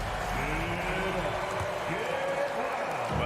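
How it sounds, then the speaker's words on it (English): Crowd applause at an NBA basketball game between the Clippers and Phoenix, a steady wash of clapping and cheering under an announcer's voice throughout. "Please give a big round of applause for your Clippers."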